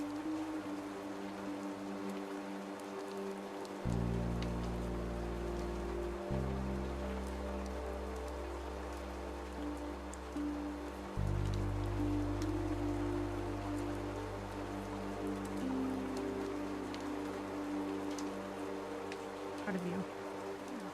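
Steady rain falls in the video game Rue Valley, a continuous soft patter layered over sustained low game music tones that shift in steps throughout.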